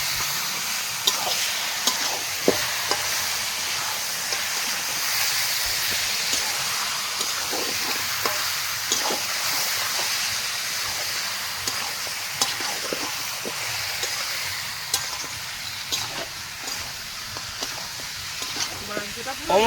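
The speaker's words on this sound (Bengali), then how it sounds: "মশলা থেকে তেল ছেড়েছে, মাংসটা দিয়ে দেবো।" Mutton sizzles in hot spiced oil, a steady close crackling hiss broken by frequent stirring clinks and scrapes, while people talk intermittently over the cooking.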